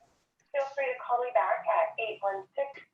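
A phone voicemail greeting plays over a meeting call, a short burst of thin, band-limited recorded speech in clipped syllables, clearly heard alone after a moment of silence.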